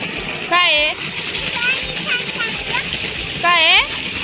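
Water splashes steadily as a small girl plays with it at home, her high voice rising in two brief bursts of chatter over the continuous wet splashing.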